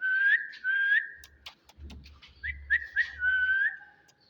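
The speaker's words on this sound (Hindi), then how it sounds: "तो मैं अभी सीटी पे ट्रेन करूँगा इसको" A person whistles a series of short, rising, sing-song phrases up close to train a pet cockatiel parrot, with brief pauses between them and low thumps and rustling underneath.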